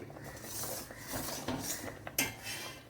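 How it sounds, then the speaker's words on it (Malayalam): Ada pradhaman cooking in a pot is stirred, giving soft scraping and clinking of a spoon against the metal pot in an uneven, continuous rhythm, close up, with no talk. "അപ്പോഴും ഇളക്കി കൊടുത്തോണ്ടേ ഇരിക്കണം, അല്ലെങ്കിൽ കയറി കട്ട പിടിക്കും"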